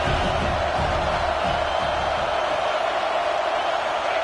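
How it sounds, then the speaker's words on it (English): Dense, steady roar of a college football stadium crowd at a USC game, loud and continuous throughout with a broad wash of voices and no clear individual cheers. "This crowd trying to make life miserable for this offense."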